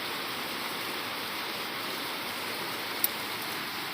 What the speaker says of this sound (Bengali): আর বাইরে পড়ছে বৃষ্টি।